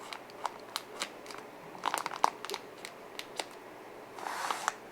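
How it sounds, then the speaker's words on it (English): Scissors snip an X into the plastic-wrapped brick of a Back to the Roots mushroom growing kit, giving sparse close crinkling and cutting clicks with quiet gaps between them. "You're gonna take your scissors or a knife, and we're gonna cut an X into our brick."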